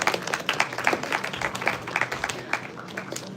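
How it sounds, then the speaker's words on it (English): Moderate, steady applause from a seminar audience at JC Bose University greeting guests, with many quick overlapping claps throughout and no clear talk over it. "everyone please give them a warm round of applause"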